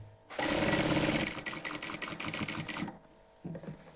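A sewing machine stitching a long seam on a round-neck front-button nighty, a close, loud, rapid mechanical chatter running for a few seconds, stopping, then a brief restart.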